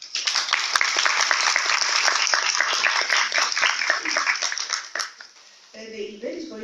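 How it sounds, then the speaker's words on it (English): A conference audience breaks into loud, close applause, a dense sustained rattle of many hands clapping for about five seconds before it thins out and fades, with a voice briefly talking at the end. "for whom I ask a thunderous applause"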